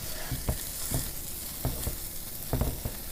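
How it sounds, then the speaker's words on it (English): Cashew chicken stir-fries in butter and sesame, a steady close sizzle broken by a handful of sharp scraping stirs of the pan, with no talking. "Man, I can hear that. It sounds so good. The sizzle."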